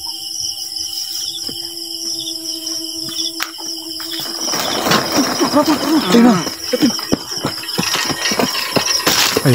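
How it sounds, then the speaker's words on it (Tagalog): A pushed motorcycle's engine catches and runs, a rough, irregular putter rising after a few seconds over steady outdoor insect buzz, with a brief spoken word nearby. "Ayun, umandar yung motor ng mga kaidol"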